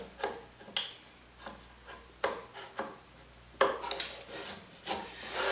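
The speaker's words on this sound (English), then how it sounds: "I'm just gently cutting down the grain, making sure I don't gouge my project." Chisel scraping glue squeeze-out off a wooden step stool frame along the grain, several short, close rasping strokes with pauses between them and no speech.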